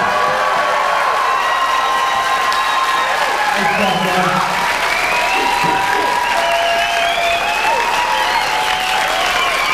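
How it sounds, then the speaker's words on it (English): A crowd applauds at a martial arts black belt graduation, with steady, loud clapping, a few cheers and shouts, and someone speaking briefly over the noise. "why don't we have to give these guys a big round of applause."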